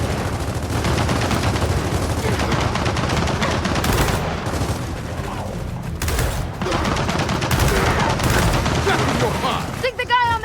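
Sustained turret machine-gun fire in the video game Gears of War 4, a dense rapid rattle of shots running almost nonstop and loud throughout, with brief dips and other game sounds near the end.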